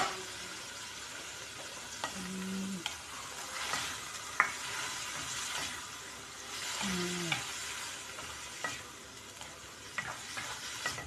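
Corned beef and egg frying in a pan while being stirred: a soft steady sizzle with scattered scraping clicks and knocks of a utensil, fairly quiet and close.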